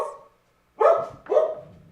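Two loud, close dog barks in quick succession after a short quiet gap, with a faint earlier bark-like sound at the start, inside a home with a loft storage area.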